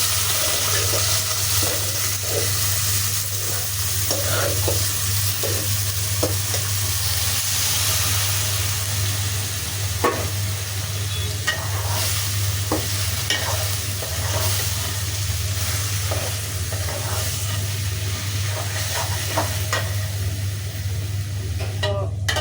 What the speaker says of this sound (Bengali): এখন ঢেলে দিচ্ছি সিদ্ধ করে রাখা সবজিগুলো।